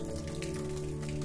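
Rain falls steadily in a continuous soft hiss, with a low sustained hum or drone running beneath it and no voices.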